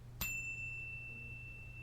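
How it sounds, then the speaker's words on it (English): A single bright bell struck once before a tarot reading, a clear ding with a long ringing tone that fades slowly over quiet room hum. "I'm going to ring my bell, cleanse and clear the energy, and we'll begin."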